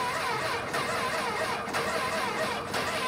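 Motorcycle-engined LeMons racecar cranking over, a steady, even churning drone that holds without catching, close and continuous from start to finish.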